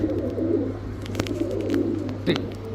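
A red checker racer pigeon coos close by, giving low repeated throaty burbles over steady background hum, with faint other birds in the distance.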